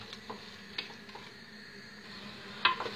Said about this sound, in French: On va laisser rissoler comme ça tout en mélangeant de temps en temps.